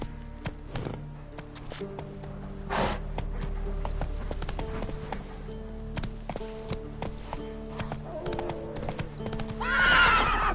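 Roach the horse in The Witcher trotting with repeated hoof clip-clops over ambient game sound, snorting along the way and ending in a loud whinny.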